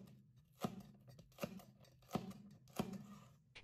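A knife slices red and green bell peppers, halved and seeded, into thick strips on a cutting board, with four crisp, evenly spaced cuts standing out close and clear against quiet background noise.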